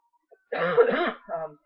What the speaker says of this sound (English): sorry, I'll try to stop coughing